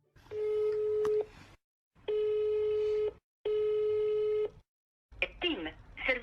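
A mobile phone call rings out with three long, evenly spaced ringback tones, each about a second long with a short gap, followed by a recorded voice answering.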